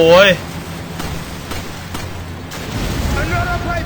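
An explosive barrel blows up in the video game Resident Evil 5, a short loud burst right at the start, followed by game noise and voices talking.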